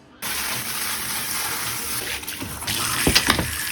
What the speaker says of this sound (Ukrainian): Зараз я буду набирати, напевно, ванну, щоб їх покупати.